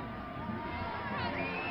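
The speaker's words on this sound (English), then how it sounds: "Baylor fans, something to cheer about here in the second half after Texas domination" Baylor fans cheering after a touchdown at a 2008 college football game against Texas, a broad, distant crowd roar that holds steady throughout.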